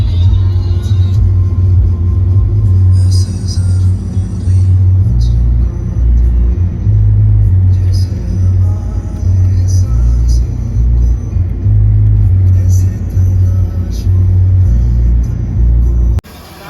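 A CNG-fuelled car cruises along a road near Ujjain, heard from inside the cabin as a loud, steady, low engine and tyre rumble that runs without a break until it cuts off at the very end.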